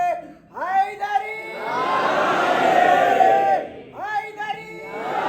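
A crowd in a mosque at a Rajab religious gathering chants slogans in loud unison, a leader's call answered by a sustained massed roar, then another call.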